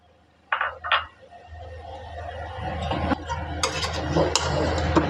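Beef stew with whole red chillies being stirred and roasted in a pot, metal spoon scraping and clinking against the pan over a low frying hiss, with a couple of sharp knocks at the start.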